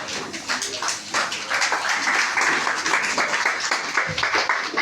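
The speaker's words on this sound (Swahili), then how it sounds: "Pigia Bwana Yesu makofi." A church congregation claps for Jesus, a steady crowd of hands clapping in a rhythmic, sustained patter that carries on for several seconds, fairly loud and close.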